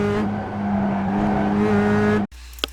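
A Mazda MX-5 engine in the iRacing video game revs hard through a turn at Summit Point Jefferson, with a brief lift and then steady power before cutting off abruptly, followed by a faint click.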